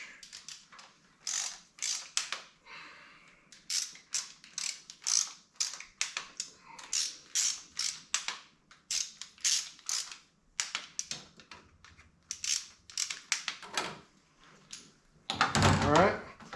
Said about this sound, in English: And we'll finish them off with the torque wrench.